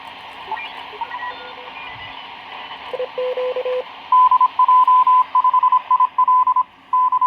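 Steady warbling FT8 digital-mode tones beep in short repeating bursts from a radio speaker mic over a faint hiss, starting lower and then stepping up louder.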